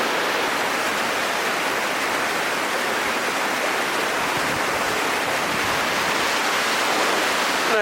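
Benta River Falls, a waterfall in Westmoreland, Jamaica, roaring close by as a loud, steady, dense rush of falling water that never lets up, with no voices.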